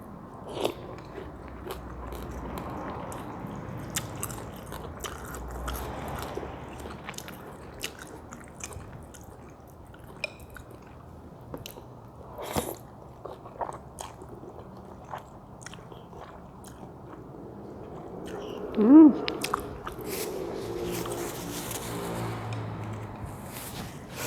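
Crispy pork crackling is bitten and chewed up close, with loud crunches and crackles repeating irregularly over a steady room background, alone with no talking.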